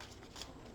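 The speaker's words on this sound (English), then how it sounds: "2 more shuffles." A tarot card deck being shuffled, quiet papery riffling and soft card flutters in a steady brief burst at close range, with no talk.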